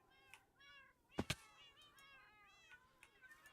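Cats in Minecraft meow over and over, several overlapping calls at moderate volume, with two sharp knocks partway through.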